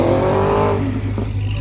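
A Cadillac CTS-V and a Camaro ZL1 on hard tires launch side by side in a drag race, with a loud engine roar climbing in pitch and then easing off over a brief moment.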